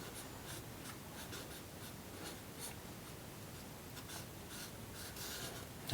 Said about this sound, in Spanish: puedo hacerlas con lo que le queda ahí a mi esfumino